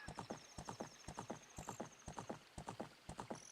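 Horse hooves clip-clop in a quick, even gallop rhythm in the video game Zelda: Ocarina of Time, fairly quiet and continuous throughout, with no talking.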